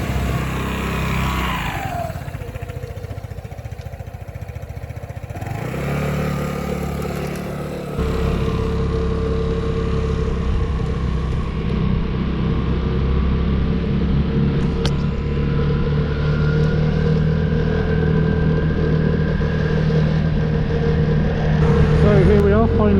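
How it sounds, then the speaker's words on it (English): A new Vespa GTS 300 Super scooter riding out on the road, a steady buzzing engine drone with wind rumble building as it gets under way, while a rider talks. "the very first ride out of the new GTS 300"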